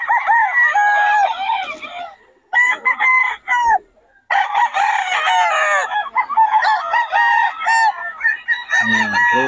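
Several young roosters (stags) crowing loudly and close together, overlapping calls with clucking between them, at a gamefowl market.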